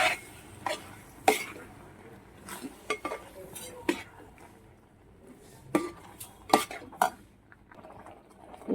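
Yogurt and coconut paste being mixed into avial curry, with scattered clinks and scrapes of a metal spoon against a pot, irregular and close, and some faint background noise between strikes.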